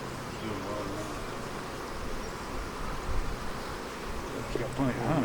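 Steady, dense buzzing of many honey bees close by at a weak overwintered nuc hive in spring, a continuous hum with faint rustling throughout.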